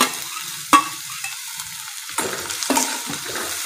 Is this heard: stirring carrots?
yes